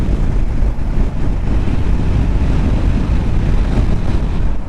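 Strong howling wind roars over a rider on a Kawasaki KLR650 motorcycle on an open road, a loud continuous buffeting rush with no break.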